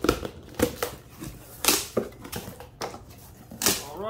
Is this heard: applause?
no